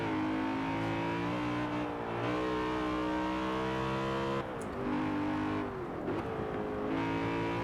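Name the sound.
BMW M3 GTR interior engine sound in Forza Horizon 4 video game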